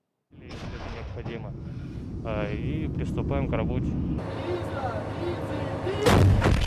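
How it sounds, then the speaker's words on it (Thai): Heavy Russian howitzer artillery booms out in a rumbling burst at Ukrainian positions, with a louder blast near the end, over a steady roar of engines and background noise. "กระทรวงกลาโหมรัสเซียเผยภาพนาทียิงปืนใหญ่วิถีโค้งโจมตีฐานที่มั่นของกำลังพลยูเครน"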